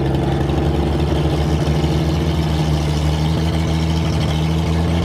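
A 1962 American Rambler with a faulty choke and a carburetor needing work runs steadily, a loud close engine drone with a constant low hum and no voices over it.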